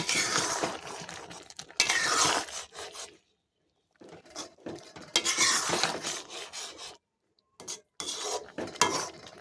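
A spoon scrapes and rubs around a pot of jackfruit curry just after water goes in, in several separate bursts of stirring broken by short silences, close and moderately loud, with no talk.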